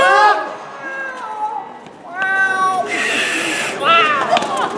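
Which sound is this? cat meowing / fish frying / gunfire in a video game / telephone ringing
cat meowing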